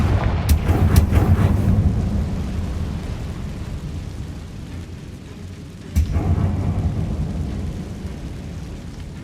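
In Hogwarts Legacy, a Confringo fire spell explodes with a sharp crack at the start and a second blast later, each trailing into a deep rumbling roar that slowly fades.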